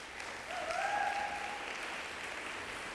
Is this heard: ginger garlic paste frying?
no